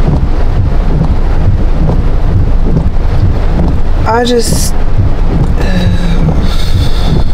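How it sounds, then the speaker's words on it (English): Heavy, near-extreme rain and wind pounding outdoors in Hawaii, a dense continuous wash of noise with gusty rumble buffeting the microphone, a few short spoken words and a brief tonal sound breaking through midway. "It's not even like light rain, it's heavy rain."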